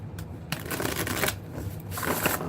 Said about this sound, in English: And they shuffling pretty good today.